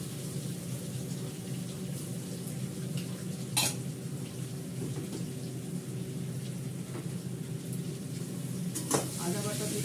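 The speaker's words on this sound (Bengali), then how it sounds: "আদা বাটা দিলাম, তেজপাতা দিলাম, মিষ্টি দিলাম, ভালো করে কষাবো।" Ginger paste, bay leaves and sugar sizzle in a hot pan, a steady, dense frying hiss running throughout with a couple of brief clinks from a utensil against the pan.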